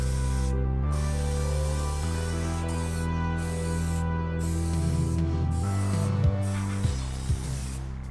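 An aerosol can sprays primer coats onto a cheap eBay car spoiler, a loud continuous hiss broken by several short pauses between passes over about eight seconds, with a faint hum and a few light knocks underneath.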